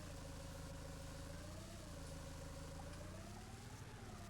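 A tractor engine idles in the video game Farming Simulator 19, a steady low mid-pitched hum that holds evenly throughout with a slight wavering tone and no talking.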